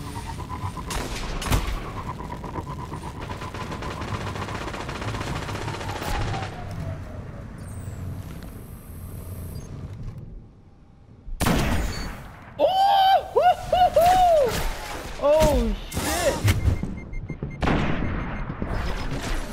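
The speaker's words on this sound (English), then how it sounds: "I love getting headshots with a sniper" Sniper rifle shots in a video game ring out as sharp, loud bursts, mostly clustered in the second half among other busy in-game sounds.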